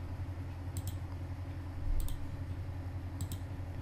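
A computer mouse double-clicks three times, each a quick pair of faint, close clicks spaced evenly over a quiet room hum, with no talking.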